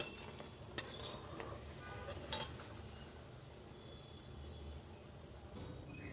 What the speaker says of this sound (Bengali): এরকম লাল লাল করে ভাজিয়া নিয়ে এবারে এলামি ওঠাই নিম